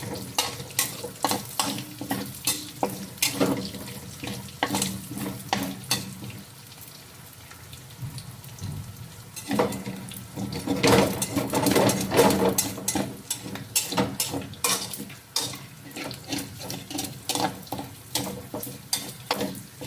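Garlic fries in a pan and is stirred throughout, a steady sizzle broken by dense scraping and clattering strokes of a utensil, louder near the middle and with no speech.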